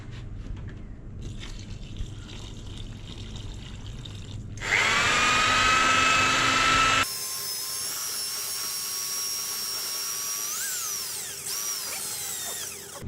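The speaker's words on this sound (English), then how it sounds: "So we must use a drill, we cannot mix it by hand." A power drill with a mixing paddle churns self-leveling concrete compound and water in a bucket, starting as a lower whirr and then rising into a loud, steady high-pitched whine that runs for several seconds, close to the microphone.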